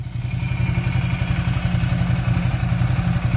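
A Ducati motorcycle engine runs close and loud with a steady, rapid thumping idle and some mechanical clatter, continuous throughout.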